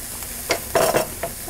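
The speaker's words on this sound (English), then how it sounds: "So I'm going to crush my garlic and put that in there." Crushed garlic hits a hot pan of cooked meat, giving a few short bursts of sizzle and stirring over a steady low background hiss.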